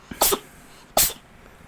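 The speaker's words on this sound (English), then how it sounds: "Why have you got the cat and it's sneezing?" Two short, sharp sneezes from a cat, about three quarters of a second apart, close and fairly loud, with quiet in between.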